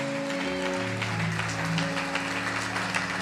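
A church congregation applauding during a service, steady moderate clapping over a sustained organ or keyboard chord that hums underneath, with no speech on top.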